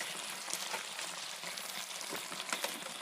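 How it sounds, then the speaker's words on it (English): Bacon sizzling and frying in a heated Dutch oven pan, a steady close crackle with scattered sharp pops, no talking. "we've heated the pan and it'll finish cooking the bacon"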